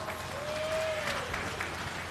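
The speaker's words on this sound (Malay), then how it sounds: "satu tepukan kepada beliau" A political rally crowd breaks into applause for a speaker, a dense wash of clapping at moderate distance, with a brief tonal note near the start.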